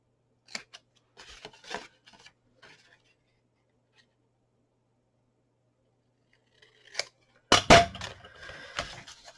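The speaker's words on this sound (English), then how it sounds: "if you see any wee bits that are up too high, give them a wee trim, which is what I'm going to do" Scissors trimming small bits of card on a handmade gift box, with faint, sparse snips early on and then a closer, louder cluster of crisp cuts and card rustling near the end.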